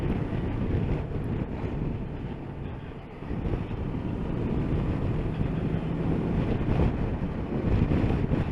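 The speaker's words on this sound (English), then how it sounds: "Got the normal headwind in my face" Steady, loud rush of headwind buffets the microphone while riding a 2022 CF Moto MT650 motorcycle, with the engine drone mixed underneath and no voices.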